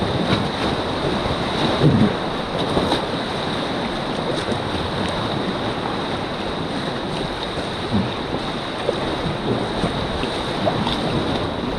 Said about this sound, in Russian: Разноплановые волны, да?